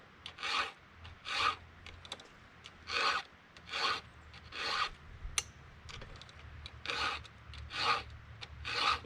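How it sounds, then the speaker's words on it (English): A hand file rasps across chainsaw chain teeth during firewood logging of wind-damaged trees, with about nine steady, evenly spaced strokes close up and no talking. "my vision is straight over the tooth that I'm filing, so I can get the right angle on it"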